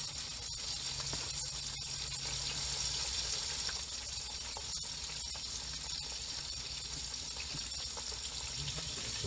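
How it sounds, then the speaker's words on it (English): Water from a shower runs steadily as someone washes their hands, a constant hissing spray at moderate distance with no talking. "I'm going to wash my hands over in the shower"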